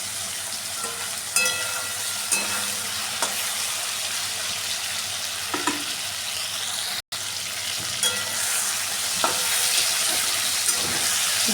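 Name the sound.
frying ridge gourd and potato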